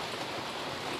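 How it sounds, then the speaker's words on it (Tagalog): Rain falls steadily on an outdoor cooking set, a dense, even hiss of water at moderate loudness with no breaks and no voices. "Nako, inabot po kami ng ulan dito sa set namin. Tingnan nyo naman, umuulan talaga."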